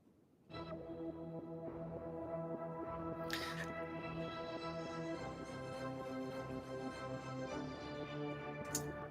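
A layered synth pad built from a Strings plugin and USynth for a new metal track swells in and then holds a sustained, harmonically rich chord, with faint pulsing movement and no voices.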